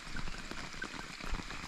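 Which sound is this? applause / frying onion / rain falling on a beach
rain falling on a beach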